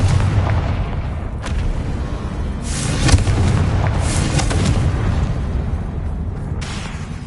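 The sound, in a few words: Confringo spell explosion from a Harry Potter video game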